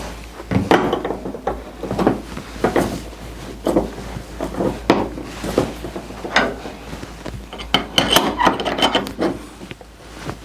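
An electric water heater element is threaded back into its tank opening, giving repeated scraping, grinding turns in short irregular bursts, close and fairly loud, with no talking.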